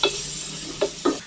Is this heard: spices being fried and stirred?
yes